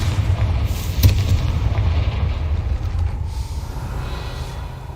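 A Confringo blasting spell goes off in the Hogwarts Legacy video game, a loud booming burst followed by a rumbling, crackling tail that fades away.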